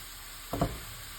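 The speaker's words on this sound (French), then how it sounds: "Je vais juste les faire revenir un petit peu" Leeks frying gently in a pan for a poached-egg and feta leek dish, a short soft burst of sizzle rising for about half a second before settling back into quiet kitchen background.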